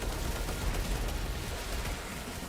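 Video game gunfire in Outriders, a dense, steady rattle of rapid shots that fills the whole stretch at an even loudness, with no talk over it.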